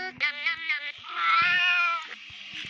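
A cat meows repeatedly inside the Roblox game Raise a Floppa 2, a string of short close mews followed by one long drawn-out wail, loud and clear with no talking over it.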